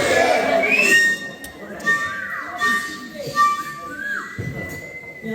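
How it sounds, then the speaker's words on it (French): Men whistling at a 40th birthday celebration, several rising and gliding whistles overlapping amid a lively crowd with cheering voices and chatter. "Et les hommes sifflaient juste."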